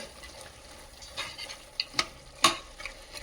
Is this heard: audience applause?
no